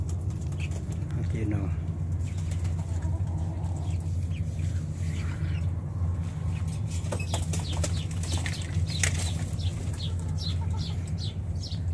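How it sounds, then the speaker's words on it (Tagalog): Pigeons flutter and coo faintly over a steady low hum, with soft wing flaps and scattered chirps in the background. "mga kalapati"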